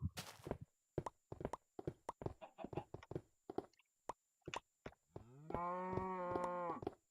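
A Minecraft cow gives one long, loud synthetic moo after a run of soft, evenly spaced clip-clop footsteps and block-breaking taps in the game.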